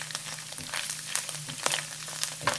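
Garlic sizzling in hot oil in a pan, a steady crackling hiss with scattered pops and a low hum underneath, close and moderately loud with no talk.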